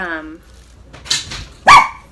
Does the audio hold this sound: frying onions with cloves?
no